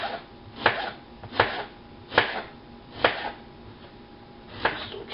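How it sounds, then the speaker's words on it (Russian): A knife chops an onion into large pieces on a board for a quick fish soup, with six distinct, evenly spaced thuds close by and nothing else in between. "Лук тоже режем большими."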